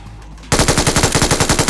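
Rapid automatic gunfire in PUBG Mobile erupts suddenly after a short quiet lead-in, a loud, steady burst of evenly spaced shots with no talk over it.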